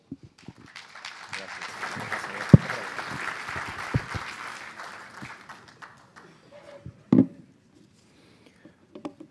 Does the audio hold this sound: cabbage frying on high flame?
no